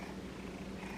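A cat purrs loudly and steadily at close range, a continuous rumbling drone with no voices over it.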